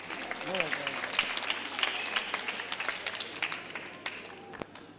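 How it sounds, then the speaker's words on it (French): Applause from the audience at a children's Christmas gathering in Goma, with scattered claps running through the whole stretch while voices talk and call out over them. "Ok, applaudissons beaucoup."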